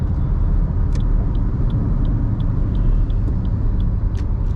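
Toyota Glanza AMT hatchback cruising on a highway at about 90 km/h and 2300 RPM, a steady loud broadband road and engine drone with tyre rumble and faint ticking, continuous and close, no talking.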